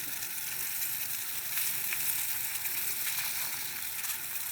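A pot of turmeric broth with tilapia simmers in a steady, even hiss of fine bubbling that stays constant and close, with no voices.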